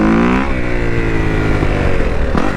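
A motorcycle fitted with an aftermarket ECU chip accelerates hard in 3rd gear for a power wheelie, loud rising engine revs close by, shifting once, then climbing again near the end.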